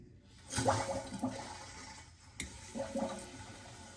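A toilet tank refills with water after a Luxe Bidet attachment is fitted, giving two close surges of rushing, gurgling water separated by a brief dip.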